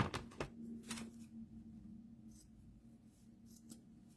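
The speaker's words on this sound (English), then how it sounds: "I'm going to cut my other piece of trim" Scissors cut a piece of trim for a handmade flower book, with a few crisp snips close up at the start, then quieter rustling and faint handling in a hushed room.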